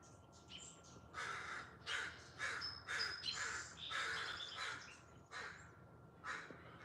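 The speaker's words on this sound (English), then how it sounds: "Maybe they're not ravens. Maybe they're crows." Crows or ravens cawing in a rainforest, a series of harsh repeated caws of similar loudness, fairly close, with a steady hiss of background ambience.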